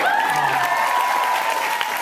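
Applause from a convention panel audience, a steady dense clapping from a large crowd with some whistling, continuing for the whole stretch.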